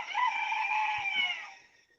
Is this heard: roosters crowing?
yes